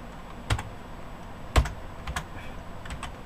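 Keys on an HP Pavilion A1410N computer keyboard are pressed while navigating the BIOS, a handful of sharp, separate clicks with uneven gaps between them over a quiet room background.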